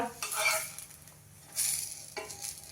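Ragi and sweet corn thalipeeth flipped onto a hot pan, with a scraping clatter of a spatula against the metal, then a steady moderate sizzle and another scrape near the end.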